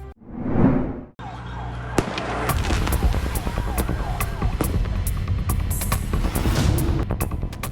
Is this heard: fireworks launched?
yes